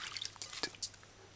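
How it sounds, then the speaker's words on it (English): Water sloshing and dripping around chopped lettuce soaking in a bowl of vinegar water, small wet splashes and drips close up, quiet and irregular with no voices. "Let the water get in between the lettuce and wash the lettuce properly."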